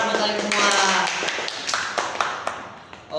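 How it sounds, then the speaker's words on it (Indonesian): Students in a classroom lesson on ecosystems clapping for themselves, a loose burst of hand claps mixed with chatter at first, then thinning to a few separate, sharp claps near the end. "Tepuk tangan buat kalian semua."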